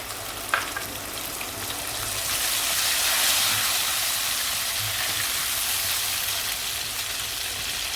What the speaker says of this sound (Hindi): अब इसमें टमाटर का पेस्ट शामिल कर देंगे।